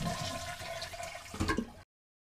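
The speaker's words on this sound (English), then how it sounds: "It flushed successfully again" A Fluidmaster DuoFlush dual flush toilet flushes, a loud close rush and swirl of water lasting under two seconds with a gurgling surge near the end before it cuts off abruptly.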